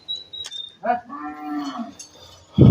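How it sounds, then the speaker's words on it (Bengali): A Sahiwal cow moos once, a long, loud, drawn-out call, preceded by a faint tone and followed by a sharp clatter at the end. "শুরুতে যেটা দেখানো হচ্ছে এটা মূলত একটা শাহিয়াল গরু"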